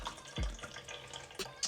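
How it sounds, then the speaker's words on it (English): Homemade chicken wing stock pours through a cloth-lined colander, a brief liquid splash and trickle with a few drips, close and fairly quiet. "we're going to just pour our wonderful stock"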